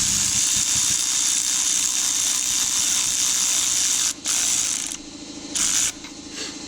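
A valve spring retainer being tightened down on a K24 engine fitted with Supertech springs and titanium retainers, heard as a loud continuous mechanical whirring rattle that briefly cuts out and then resumes more quietly in short bursts.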